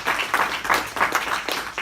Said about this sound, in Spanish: Dan un aplauso a Cristo.